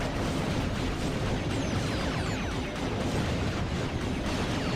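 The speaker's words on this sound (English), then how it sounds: "this is always going to be a noisy game because explosions" Explosions in the video game Ratchet: Deadlocked keep up a loud, dense barrage of blasts and crackling noise that never lets up, with no voice over them.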